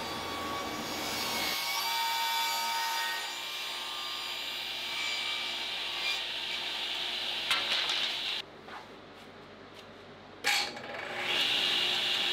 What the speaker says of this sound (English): I'm also cutting some smaller strips of wood, something that will go inside the frame